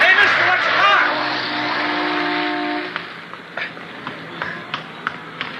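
In a Dragnet radio drama, a car roars close past a man as its engine pitch drops away. Sharp scattered clicks and knocks follow in the quieter stretch, and voices are present.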